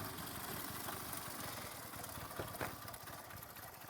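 Honda CB 125 K5 motorcycle idling steadily after starting, its engine giving an even, continuous putter at close range with no talk, for about four seconds.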